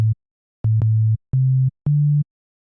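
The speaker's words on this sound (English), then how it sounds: "the first thing we're going to do is to load sine waves on each oscillator" Pure sine-wave oscillators in the Serum software synthesizer play four clean sustained low notes with short gaps between them, each rising slightly in pitch, with soft clicks at the starts and ends and no other sound.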